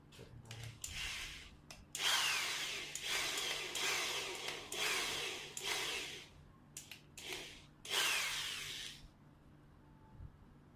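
A power drill with a 2 mm bit boring into bamboo, making a close whining buzz in several bursts of varying length with short pauses between, over a faint background hum.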